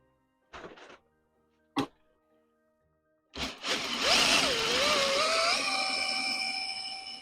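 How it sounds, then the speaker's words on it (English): A cordless drill spins a magneto from a Ford engine, with a few soft clicks and a thunk before the motor whirs up loudly and holds a steady, rising-then-level whine to the end. "So if I spin it with a cordless drill, we should see some sparks."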